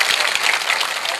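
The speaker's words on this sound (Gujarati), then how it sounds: "તો બધા તાળીઓ જોરદાર વગાડો" A crowd at a political rally in Mangrol, Gujarat claps loudly and continuously in dense, crackling applause with no talk over it.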